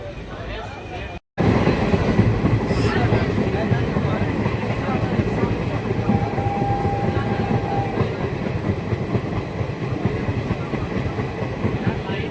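A passenger train runs on the single line between Tinpahar and Rajmahal, a short rural route in India, with a loud, steady rumble and rhythmic wheel clatter close by, while voices talk beneath it.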